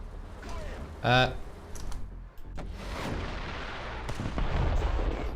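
Rapid weapon fire in the War Thunder tank combat game comes as a few sharp, heavy reports over a rumbling in-game engine and battlefield noise.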